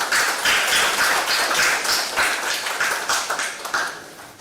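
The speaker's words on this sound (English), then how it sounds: "A big round of applause to Dr. V. Ramanujachari." An audience at an international conference on IC engines, propulsion and combustion applauds a speaker, a loud, dense burst of many hands clapping that stays strong and then begins to thin toward the end.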